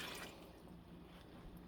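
Water pours steadily into a soup pot during miso soup prep in a home kitchen, a soft continuous splashing and trickling at close range with no talk.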